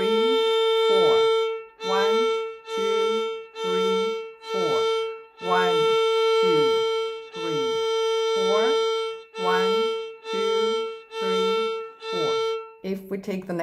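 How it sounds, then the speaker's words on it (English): A violin bows a steady rhythm line on one repeated pitch, quarter and half notes in even pulses, while a voice counts the beats aloud over the playing close up. "Let's play the whole line on the violin."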